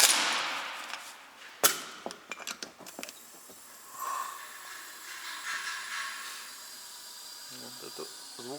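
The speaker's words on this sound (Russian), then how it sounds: "Вот это звук уходит через кольца вниз." Air hisses past the piston rings of a cylinder in a Mercedes OM501 V6 diesel engine with about 1.7 million km of wear. Soft hissing rises and falls after a sharp metallic click and some clattering, with faint voices nearby.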